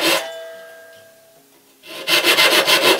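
A hand saw cuts wood for a kitchen chair, giving a fading ringing tone before a run of loud, rhythmic rasping strokes that fill the last second.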